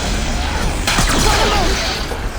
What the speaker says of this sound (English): A heavy weapon. I could use it against the Spectre.